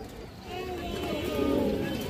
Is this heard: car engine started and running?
no